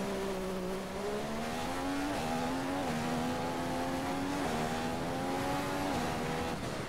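A Formula 1 car in F1 2015 at the Malaysian Grand Prix, its engine holding a steady high whine that climbs through several upshifts, loud and continuous with no talking.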